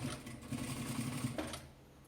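Sewing machine stitching fabric binding on a scrap-fabric organizer basket, a steady close mechanical whir with rapid needle rhythm running continuously, fairly quiet.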